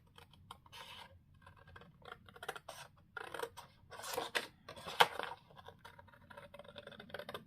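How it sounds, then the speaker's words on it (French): Scissors snip through paper pages for a Halloween album, giving a string of short, irregular crisp cuts that bunch together and then pause. The cuts are close and fairly quiet, with no talking. "Donc, je coupe."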